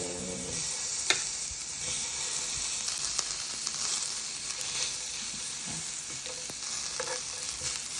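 Steady, soft sizzling of Thai sai ua sausage frying without oil over low heat in a Teflon nonstick pan, with occasional small ticks and pops and no talking.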